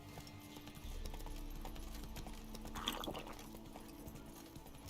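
Hoofbeats of Roach, Geralt's horse in the video game Witcher 3, a faint, steady clip-clop of hooves plodding along under low ambient sound.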